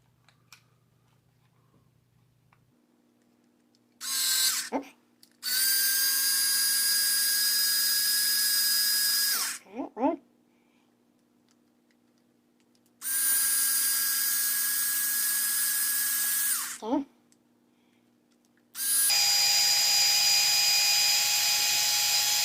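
Small power screwdriver backing screws out of the transmission casing of a TRX4M Chevy Cheyenne RC crawler, with three long steady high whines separated by pauses and short clicks, close and without talk.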